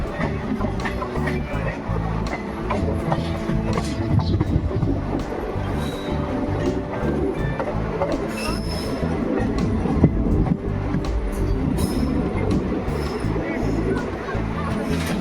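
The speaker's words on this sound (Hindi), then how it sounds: "तो ट्रेन पहुंच रही है लूप लाइन की तरफ" A passenger train rumbles steadily along the rails approaching a station on a loop line, close and continuous, with a murmur of voices and crowd noise mixed in throughout.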